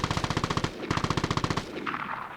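ADR rifle in the online shooter Vigor fires two rapid automatic bursts of about a dozen loud, close shots each, followed by a brief fading tail.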